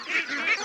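Domestic ducks on a foggy fish-pond farm give a quick burst of nasal honking calls, two or three short pulses close together, fairly loud and near.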